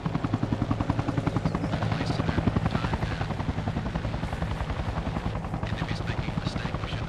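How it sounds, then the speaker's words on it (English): Enemy helicopter in a video game, a steady loud rotor chop with fast regular blade pulses running throughout, with voices talking over it. "Enemy heli"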